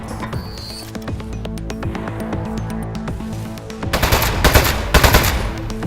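A toilet gun in the game Aperture Desk Job blasts in rapid repeating bursts, loud and close over a steady game backdrop, growing denser and heavier toward the end.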